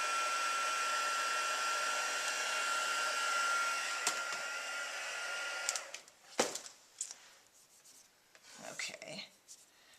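A heat tool blows a steady, close whooshing hum over StazOn ink on a stamped Sweet Treats piece, then cuts off partway through, leaving quiet handling and rustling.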